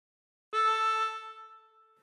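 A harmonica draw note on hole 3, bent, sounds once up close, a sustained reedy tone rising in quickly, holding, then gradually trailing off with no voice present.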